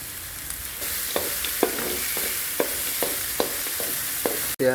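Tomatoes fry with onions in a pan for poha, giving a steady close sizzle with a regular series of spoon taps and stirring scrapes roughly every half second, ending in a brief clatter, with no voices.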